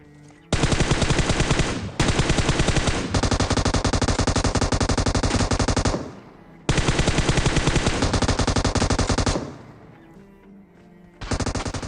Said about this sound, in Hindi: हमें सामने से फायर आती है